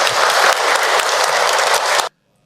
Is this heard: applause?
yes